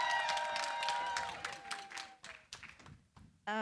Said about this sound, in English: A very big hand clap to Annitah.